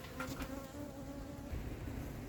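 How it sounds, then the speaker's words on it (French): Honeybees hum in a steady, dense drone throughout as a colony is removed from a building at a château, loud and close with no talking. "Il y a encore beaucoup d'abeilles."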